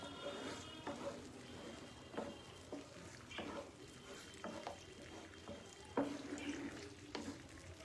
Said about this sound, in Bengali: আঁচটাকে বাড়িয়ে ভালো করে এটা নাড়াচাড়া করব।